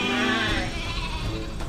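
Sheep bleat as a shepherd leads his flock toward the forest: a loud, close, wavering cry carries over a background of more bleating from the flock.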